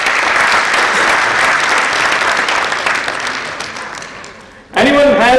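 Audience applause at a sports and exercise medicine conference, a dense, loud wash of clapping that holds steady for several seconds, fades briefly, then gives way to someone speaking.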